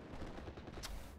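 Bursts of gunfire in the WWII strategy game Steel Division, a dense run of overlapping shots and rattling volleys with one sharper crack near the end, fairly loud throughout.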